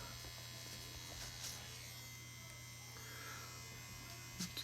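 A tattoo machine buzzes in a steady low electric whine while working on practice skin, faint and continuous throughout with light handling noises.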